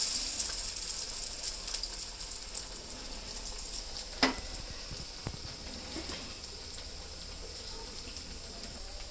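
Pieces of dough for baborulu garulu fry in a kadai of hot oil, giving a soft, continuous sizzle with occasional small pops and clicks, close but faint.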